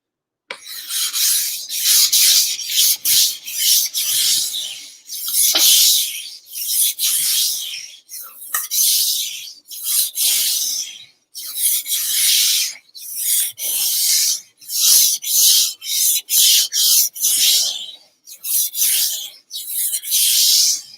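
Kitchen knife drawn along a whetstone finishing stone using the whole blade, a steady rhythm of raspy back-and-forth scraping strokes with brief pauses between passes, close and fairly loud, no talking.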